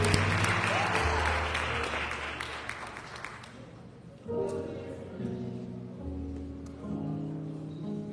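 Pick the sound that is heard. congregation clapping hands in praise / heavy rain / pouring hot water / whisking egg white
congregation clapping hands in praise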